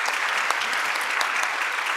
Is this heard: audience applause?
yes